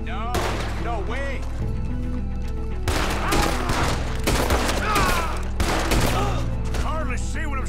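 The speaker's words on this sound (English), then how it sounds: "Hardly see what I'm shooting at." Rapid bursts of gunfire from a shootout in Red Dead Redemption 2, loud and dense, layered over game music and a steady low rumble, with several quick volleys close together.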